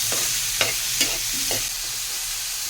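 Onions, tomatoes and green chillies fry together in a pan, a steady close sizzle broken by a few sharp stirring scrapes of a spoon against the pan.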